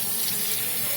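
Tepid tap water runs steadily while a woman's hair is rinsed at the nape over a salon sink, a continuous close hiss with no talking.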